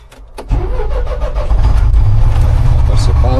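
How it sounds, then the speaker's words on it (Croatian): A Scania Liebherr LTF 1045 truck crane's engine cranks briefly and then catches, settling into a loud, deep, steady rumble close by, with a voice speaking over it. "Motor se pali."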